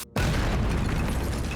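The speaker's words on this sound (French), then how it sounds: "ils font de grosses explosions sous la terre" Dwarves' underground explosion in the children's cartoon Ben and Holly's Little Kingdom: a sudden deep boom bursts out after a moment of quiet and holds as a dense, loud roar.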